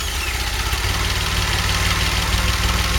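DeLorean engine fitted with zero-ohm spark plugs, idling steadily and loudly up close with an even, continuous throb and no talking.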